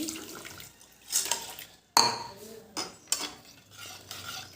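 A spoon stirs tea leaves and coffee into a glass of water at close range. Irregular clinks and swishes ring against the vessel, with several sharp taps between quieter pauses.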